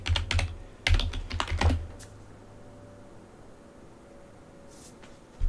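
A password gets typed on a computer keyboard during a Manjaro Linux installation, a quick burst of close, crisp keystrokes over the first two seconds, followed by near silence and a faint click near the end.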